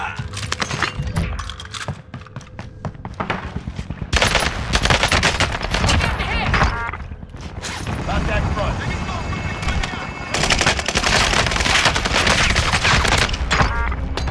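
Warzone video game gunfire: sustained bursts of automatic and rapid rifle fire in dense, loud volleys with brief lulls, under intermittent talk.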